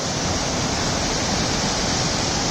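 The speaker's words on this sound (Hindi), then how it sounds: "ये गौरी गंगा हमारे राइट से आ रही है और ये संगम है उसका।" Rushing water where the Gori Ganga meets the Kali river, a loud, continuous broadband roar with no breaks or voices.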